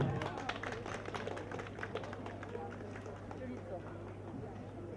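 Crowd clapping for guests at a village harvest festival in Międzyrzecze Górne, a dense steady patter with scattered footsteps and murmuring voices over a low constant hum.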